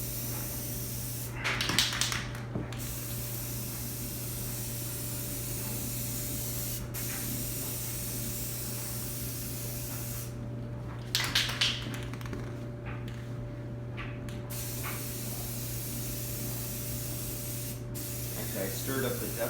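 Rust-Oleum aerosol spray paint hissing onto LG heat pump sheet metal panels in a few short bursts, close to the microphone, over a steady mechanical hum.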